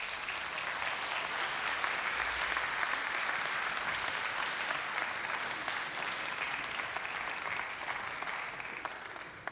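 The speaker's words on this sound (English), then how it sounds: "you can give them a round of applause" A church congregation at a worship service gives sustained applause, a thick, even wash of many hands clapping for the whole stretch, with no voices standing out.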